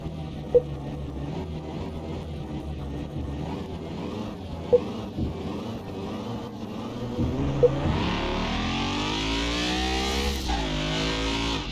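A Nissan 350Z Nismo drives in the Car Mechanic Simulator 2021 video game, its engine droning and then revving up through rising gear pulls, with a few sharp knocks over bumps.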